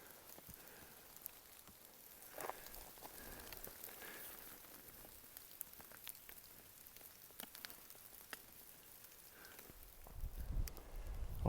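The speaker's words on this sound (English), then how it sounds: "we're getting a mixture of light rain and hail and a little bit of snow" Light rain mixed with hail patters and ticks on surfaces along a forest trail in June, soft and scattered, with occasional sharper taps and brief rustles, no voices.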